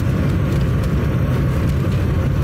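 Car engine idling steadily after remote autostart in minus 42 degree frost, a continuous low rumble and whir heard up close, with no talk over it.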